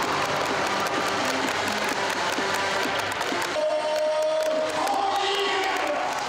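Fans in a basketball arena roar during a stunt cheerleading routine as flyers are tossed high into the air. The crowd noise is a loud, continuous wash of cheering and applause, with no talking.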